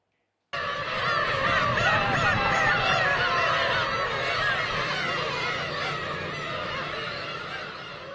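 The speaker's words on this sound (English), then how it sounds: "what you're about to hear are black-tailed gull chicks, locally known as umineko, or sea cats." A dense chorus of many black-tailed gull chicks calling at once, harsh cat-like mewing cries overlapping continuously without pause, fairly close and loud.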